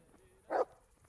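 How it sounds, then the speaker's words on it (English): A single short, mid-pitched bark from a dog in the game Kingdom Come: Deliverance, sitting alone over quiet background ambience. "Mutt, what are you barking at me for?"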